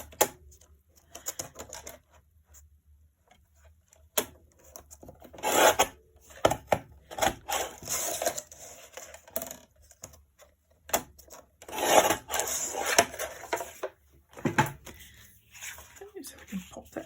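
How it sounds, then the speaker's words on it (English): A matte card layer is being cut with irregular bursts of scraping, rasping strokes separated by quiet pauses, up close, with a voice speaking intermittently between the cuts. "So we'll cut the matte layer."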